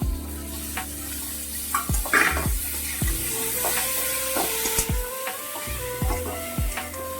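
Soya chunks dropped into spices sizzling in oil for soya rice, a steady crackling fry punctuated by repeated sharp clinks and scrapes of a spatula against the pan.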